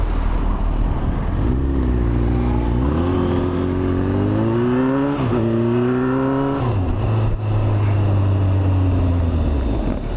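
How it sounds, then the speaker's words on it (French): Motorcycle engine during an emergency braking exercise with a left U-turn on an A2 licence training course, its tone rising and falling steadily as the bike slows and turns, close and loud with no talk. "Donc là on fait freinage d'urgence avec le demi-tour à gauche."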